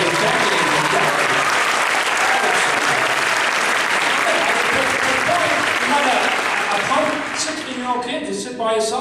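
A comic convention panel audience gives sustained, loud applause, a dense unbroken wash of many hands that tapers slightly near the end as a voice begins to come through.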